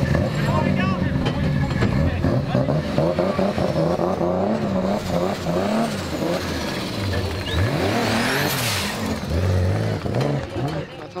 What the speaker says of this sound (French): Regarde, voilà, la voiture roule